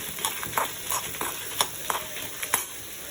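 Chillies frying in a pan, a soft sizzle beneath a series of light, evenly spaced scraping stirs and taps of a spatula, quiet and close.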